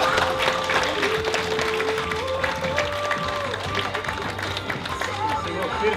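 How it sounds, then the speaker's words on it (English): Applause from an audience for brides modelling dresses at a wedding fair, steady clapping with some cheering and crowd voices, fairly loud and continuous over background music and talk. "I'd like to have a big round of applause for all our brides and the little ones."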